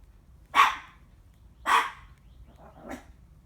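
A dog barks three times at roughly one-second intervals, the first two sharp and loud, the last one softer and lower, against a quiet low background hum.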